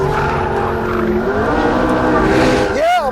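A 2015 McLaren P1 engine roars loud and close under hard acceleration, its sustained note climbing through the revs before a sharp pitch break as it snaps through a gear change near the end.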